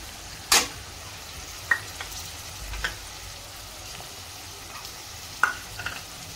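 Vegetables with spices are stirred and fried in a kadhai for a mixed vegetable dish, a low sizzle with a few sharp metallic scrapes and taps of the spoon, spaced irregularly.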